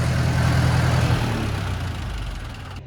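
An IH Farmall 400 gas-start diesel tractor runs on gasoline, its steady, close engine drone fading slightly as the fuel runs out.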